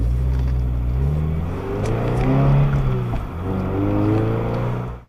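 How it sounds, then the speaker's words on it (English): A car accelerates hard and speeds away from a roadside stop, its engine revving up through rising gears, loud and close as captured from a dash cam. "The driver wastes no time and speeds off"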